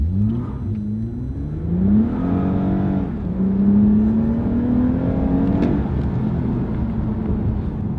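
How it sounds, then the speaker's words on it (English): A Toyota Camry TRD accelerating in sport mode with manual shifting, its engine droning up in pitch, dropping at a gear change, then climbing again in a loud, steady in-cabin roar. "We'll step on the gas. You can see it does go. Now we'll put it in the S, so we're shifting it ourselves"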